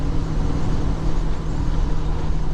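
Holden HK car with freshly fitted cylinder heads, engine running steadily while driving, a constant low droning rumble heard from inside the cabin with no voices.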